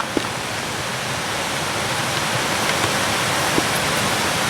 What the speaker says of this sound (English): That waterfall is so loud.